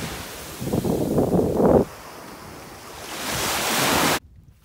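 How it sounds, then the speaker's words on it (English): Waves washing onto a stony beach in Ireland, one surge rumbling up and receding, then a second hissing wash over the stones, with wind buffeting throughout. "we're here at the beach and there's lots of stones in the water"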